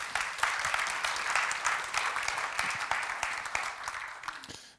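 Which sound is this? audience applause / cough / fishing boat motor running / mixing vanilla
audience applause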